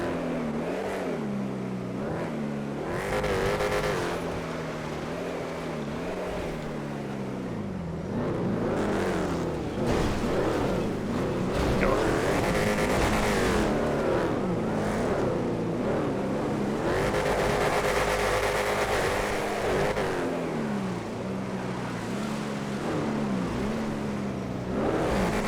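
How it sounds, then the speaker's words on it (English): Drag car engines race in the video game GTA FiveM, revving loud and continuous with shifting pitch as the cars accelerate through the gears, with no talk over them. "Oh, Picador Loco drag coming up behind me."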